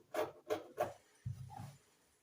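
Scissors trim excess dress fabric: three quick, soft snips, then a longer, quieter cutting stroke, close but faint.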